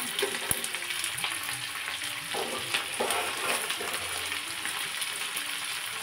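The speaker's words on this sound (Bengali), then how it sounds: "বাকি যা কিছু আছে সবই দিয়ে দেবো, দিয়ে হালকা করে ভেজে নেব।" Ingredients for a spicy egg pasta frying gently over a low gas flame, a steady close sizzle with occasional soft clicks and scrapes of stirring, no voices.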